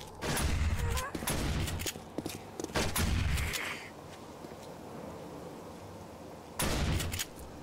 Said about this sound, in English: I haven't used the new shotgun yet. The long barrel.